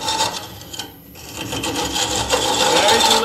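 A lathe hollowing tool cuts inside a spinning wooden hollow form, a loud, steady rasping scrape that pauses briefly and then resumes more harshly.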